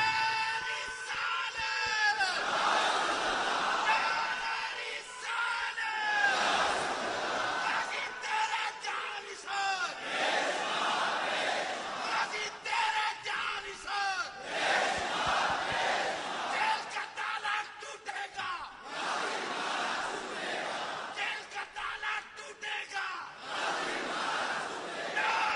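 Crowd at a Punjab Assembly gathering roaring slogans in loud repeated waves, with bursts of shouting every few seconds and a leader's voice between them.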